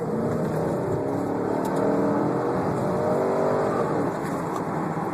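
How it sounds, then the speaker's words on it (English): A 2012 Chevrolet Camaro SS convertible accelerating, its engine droning loudly and steadily with rising pitch and road noise, heard from inside the car without talk. "That accelerates too fast, so I had to slow down just to get on the freeway."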